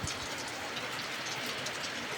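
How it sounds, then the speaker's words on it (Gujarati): Afternoon rain falls in a village in Amreli district, Gujarat, after a long dry spell, making a soft, even patter that stays constant and fairly distant. "15મી ઓગસ્ટ બપોરના 3 વાગ્યાનો વરસાદ ચાલુ થઈ ગયો છે"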